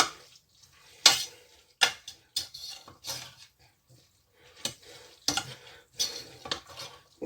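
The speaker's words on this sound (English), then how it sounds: "Then mix it all in." Summer sausage being stirred into mac and cheese, with a string of sharp spoon scrapes and clinks against the pot, separated by short pauses and heard close up.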